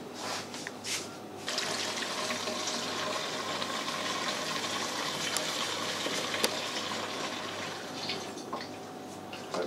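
Alcohol pours through a funnel into a jug in a steady, continuous gush of liquid that holds for several seconds after starting with a couple of brief splashes.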